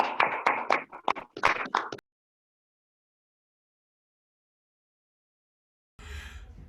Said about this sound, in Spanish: Sí, aplauso, aplauso.